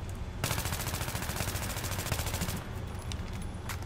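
An AEK-971 rifle fitted with a foregrip fires in Battlefield 3 as one sustained rapid automatic burst of over two seconds, loud and close, trailing into echo and a few shell or handling clicks.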